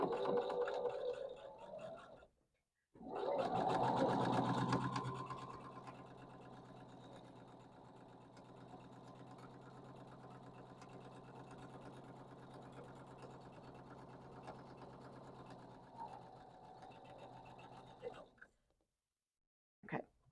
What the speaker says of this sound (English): I'm going to sew the other side of the half square triangle.